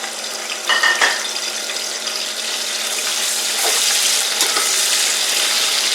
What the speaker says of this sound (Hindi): प्याज जो है ब्राउन कर लेते हैं